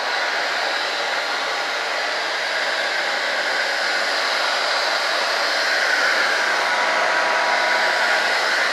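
A hair dryer blows a steady, loud, unbroken whoosh while warming primer on a scale model, running alone with no speech.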